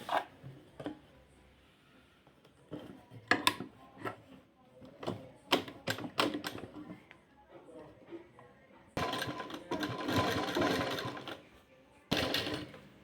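A sewing machine stitches a blouse in quick bursts of rapid mechanical chatter, separated by pauses filled with clicks and handling noises, with someone talking between runs.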